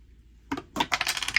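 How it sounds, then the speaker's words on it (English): Dice thrown across a room during a 1956 baseball radio broadcast: a few sharp clattering rattles and rolling clicks, moderately close, with no talk over them. "I'm throwing dice all over the room"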